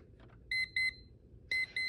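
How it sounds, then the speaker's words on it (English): A classroom timer alarm goes off in quick paired electronic beeps, two bursts then a pause then two more, clear and moderately loud in a quiet room. "when the timer goes off, and remember the timer sounds like this"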